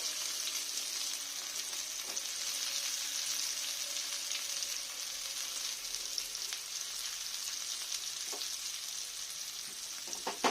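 Onions frying in a pan until reddish for a dal: a soft, steady sizzle with occasional light clicks of stirring, fairly faint and even throughout, with no voices.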